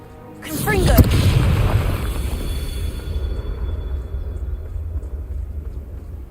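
Confringo fire spell blasting in Hogwarts Legacy on PC, a single loud booming explosion with a sharp crack that rolls into a long low rumbling tail and fades slowly.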